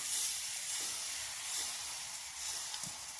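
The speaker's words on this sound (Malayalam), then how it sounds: "നല്ല ചുട്ടിരിക്കുന്ന കല്ലിലേക്ക് നൈസോടെ ഒഴിച്ചു കൊടുക്കാം" Green gram dosa batter poured onto a very hot griddle gives off a steady, soft sizzling hiss that continues throughout with no talking over it.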